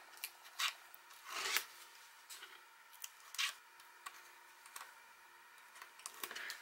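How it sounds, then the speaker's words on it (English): Tape backing being peeled off and slid down on a chipboard craft album, heard as quiet crinkly rips and papery rustles in scattered bursts, close and faint with no talking. "I'm going to remove all my tape backing and slide that down"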